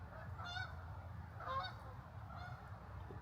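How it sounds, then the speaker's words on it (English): Three distant goose honks, spaced about a second apart, calling faintly over a low steady rumble of outdoor background noise. "One goose got left behind."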